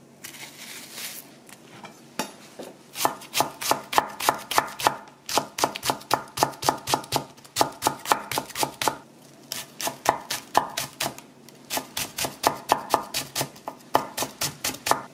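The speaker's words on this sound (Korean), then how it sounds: "파를 곱게 다져서 썰어주세요." A knife finely chops green onions on a cutting board. The quick, even taps come in rapid bursts with short pauses between them, close and clear.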